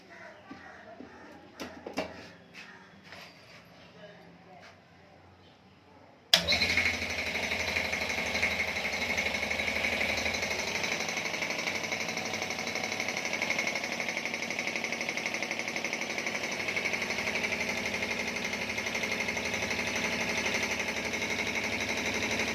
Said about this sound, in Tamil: ஜிஹெச்சில் கம்ப்ரஸர் மோட்டர் மாட்டியாச்சு. ஓட்டி செக் பண்ண போகிறோம்.